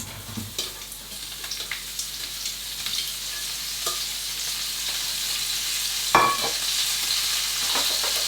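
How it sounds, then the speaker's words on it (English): Leeks sizzle in a cider chicken one-pot casserole, a steady broadband hiss with occasional stirring clatters and a brief sharp clank partway through, no talking. "we're going to reduce the heat to moderate and add in our leeks"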